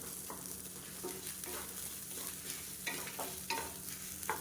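Grated coconut roasting in a pan for a South Indian okra kara kuzhambu, with a low steady sizzle under repeated scraping and stirring strokes of a spoon against the pan, close and fairly quiet.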